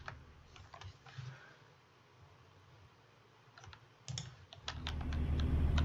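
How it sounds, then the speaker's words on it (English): Quiet clicks of computer keyboard typing come in short scattered bursts, close and faint, before a louder low rumble rises at the end. "Hit a little snag on the keyboard."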